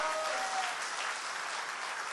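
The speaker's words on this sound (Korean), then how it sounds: "여러분 맞으시면 박수 부탁합니다" Church gathering audience breaks into steady, dense applause, fairly distant and even throughout, with no talking over it.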